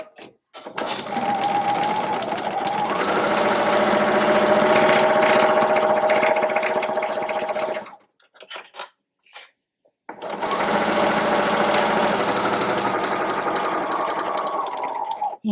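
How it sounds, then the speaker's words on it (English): A sewing machine stitches the quarter-inch side seams of a fabric tote bag, running steadily for long stretches with one brief pause and a few short bursts in between. "And then I will sew my seams up on the sides."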